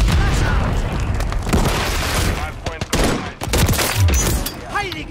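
Call of Duty game audio of a Hardpoint match on the Terminal map: rapid bursts of gunfire and booming Semtex and flash grenade explosions, loud and dense, with voice callouts over the fighting.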